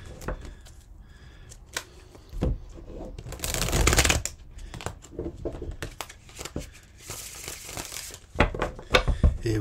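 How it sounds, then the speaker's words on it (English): Close, repeated riffle-shuffling of a card deck, crisp flicking bursts with brief pauses between shuffles. "A couple more shuffles, I think."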